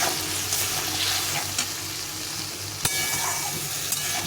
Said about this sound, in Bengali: এখন আমি এই মশলাটা জলে গুলে নিয়েছি তো দিয়ে দিলাম, দিয়ে ভালো করে সবজির সঙ্গে কষিয়ে নেব